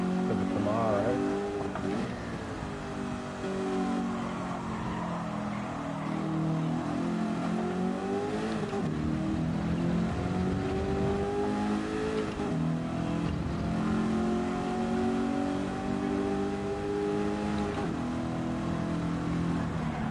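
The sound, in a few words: Camaro race car engine in racing video game, Laguna Seca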